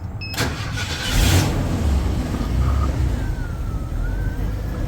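A Chevrolet 2.5-ton CCKW amphibious truck from World War II, converted for duck tours in Chattanooga, Tennessee, cranks and fires up, then settles into a steady, rumbling idle close by.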